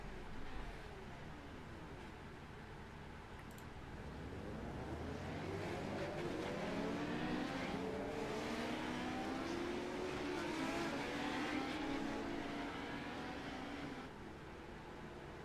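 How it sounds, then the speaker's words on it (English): A field of seven race cars rolls around a short track behind a pace car, their engines droning at low pace with overlapping rising and falling tones from a distance, the rumble gradually swelling and then easing off. "All 7 drivers take to the track, waiting for the pace car to get rolling."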